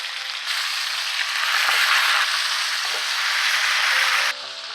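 A New York bone-in striploin steak sizzles loudly in a hot pan, a constant bright hiss with faint clinks and taps, cutting off near the end.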